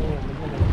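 Speedboat ferry ride across the sea toward the Blue Hole in Egypt: a steady, close engine-and-hull rumble with wind buffeting the microphone, swelling slightly near the end.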